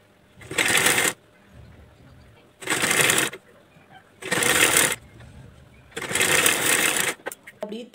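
A sewing machine stitches blouse fabric, reverse-stitching a folded cross piece, in four loud bursts of about half a second to a second each, separated by short pauses, close up with no talking.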